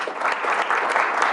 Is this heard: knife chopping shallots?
no